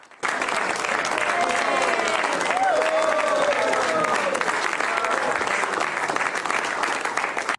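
Sustained applause from a room full of people in the Oval Office as the president signs a bill, loud and continuous, with some voices talking beneath the clapping.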